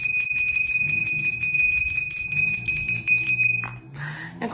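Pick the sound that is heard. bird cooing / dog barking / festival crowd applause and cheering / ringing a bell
ringing a bell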